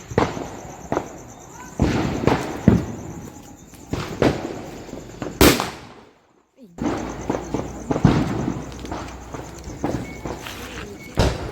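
Firecrackers burst during Diwali celebrations, a string of sharp, loud bangs and crackles at irregular intervals, with one brief silent gap midway and voices faintly audible in the background.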